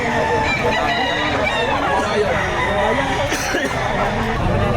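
Roosters crow repeatedly amid dense clucking and crowd babble at a busy chicken market in Batangas, loud and close, with voices talking throughout.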